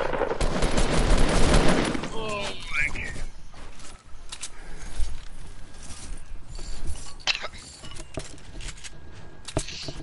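Gunfire in a sniper video game crackles in a dense burst of rapid shots at the start, followed by scattered sharper reports and clicks, with people talking over the game sounds.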